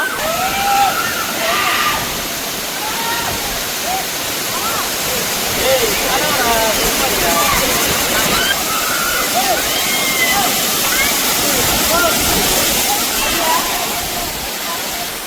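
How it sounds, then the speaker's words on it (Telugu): Penchalakona waterfall roars heavily and constantly nearby, a dense rushing wash of falling water, with voices and birds faintly audible through it. "దగ్గరికి వచ్చి చూసారు కదా, వెనకాలే ఉంది వాటర్ ఫాల్స్."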